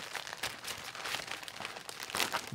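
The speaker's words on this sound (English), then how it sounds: "You can feel and see this whole like metallic paper inside." The metallic Faraday lining inside the pocket of an anti-theft backpack crinkles in soft, close bursts of rustling that come and go over a couple of seconds, with no one speaking.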